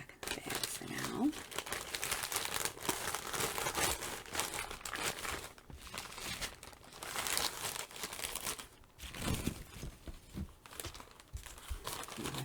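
Plastic bag crinkling and rustling continuously and close by as craft goods are packed back into it, with brief pauses; someone talks over the handling.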